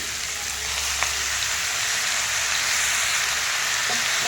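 Onions frying in a pan until soft give off a steady, close sizzle with a faint crackle and an occasional clink of stirring. No one speaks.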